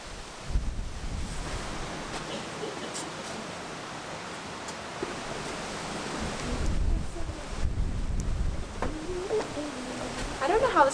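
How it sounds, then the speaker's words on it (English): Strong wind gusts buffet the microphone at Loch Leven Castle in Scotland, a steady roaring rush that swells louder near the end, with people talking softly beneath it. "Oh, it's very windy today."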